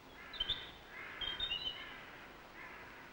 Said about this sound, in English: The owner of that harsh, trilling voice is a wren.